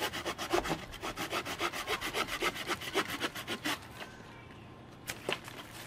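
A Bahco Laplander folding saw cuts through an inch-thick branch in quick, regular rasping strokes for about four seconds, then goes quiet apart from a couple of faint scrapes.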